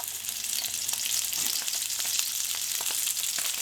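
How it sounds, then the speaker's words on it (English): Steady, loud sizzling and spitting of sausages frying in hot oil, a dense crackle throughout with no talking. "Okay, you should hear them sizzle nicely."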